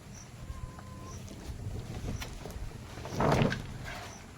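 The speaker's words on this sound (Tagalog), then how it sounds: "Malakas na may hangin" Wind roars and buffets the microphone in an open outdoor space, with a louder gust rushing through near the end.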